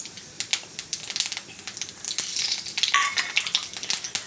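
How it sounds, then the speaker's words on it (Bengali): Whole spices dropped into hot oil for tempering, crackling and spitting in a quick, uneven burst of sharp pops with a bright sizzle, close to the pan, with no voices. "তেলের মধ্যে ফোড়নটা দিয়ে দিলাম।"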